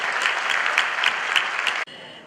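An audience breaks into brisk, close applause to welcome someone speaker to the stage. The clapping is full and lively for under two seconds, then cuts off sharply to a quiet room hush.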